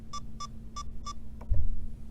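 A Futaba 18SZ radio transmitter sounds its stick alarm as four short, evenly spaced electronic beeps, clear and close, followed by a soft handling thump.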